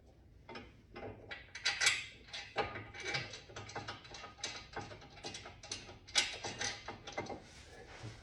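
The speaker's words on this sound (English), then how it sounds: "I'll put the caliper mount back on." The brake caliper mount goes back onto the front wheel hub of a 2013 Honda CR-V, with close, quiet metallic clicks, ratcheting and scraping in irregular bursts, and no one talking.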